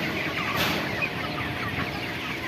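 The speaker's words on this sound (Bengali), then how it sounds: "এদিকে আমাদের কিছু মুরগি আছে" A flock of broiler chickens on a farm clucking and murmuring continuously, a dense overlapping chorus nearby with no pauses.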